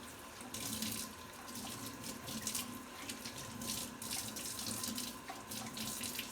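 Hands washed under a running tap with hot soapy water in a kitchen cooking demonstration, a steady splashing stream pouring continuously into the sink, close and fairly quiet, with no talking.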